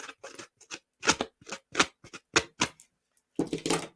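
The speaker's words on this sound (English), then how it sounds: "you can just do this with your scissors" Scissors snip through card in a quick series of short, crisp cuts, close and fairly quiet, with brief pauses between bursts and a final flurry of snips.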